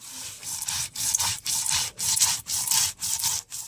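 Spices are ground into a paste for mustard hilsa on a flat grinding stone, giving a rhythmic back-and-forth scraping rub in about eight even strokes, close and with no talking.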